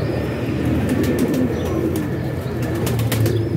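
Pigeons coo in a low, continuous murmur, with occasional sharp flutters of wings over a dense, steady background.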